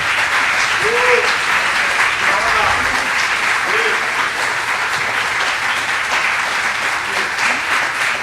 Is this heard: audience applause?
yes